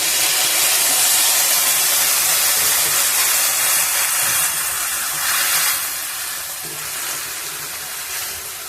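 A small splash of water hits nearly boiled potatoes in a hot pan for a bitter vegetable chorchori, setting off a loud, continuous steamy hiss that eases slightly toward the end.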